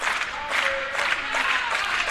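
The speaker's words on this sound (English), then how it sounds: "And the clapping starts on the Rutgers bench." Scattered clapping from the Rutgers bench at a game, a busy wash of hand claps and crowd noise with bursts of cheering throughout.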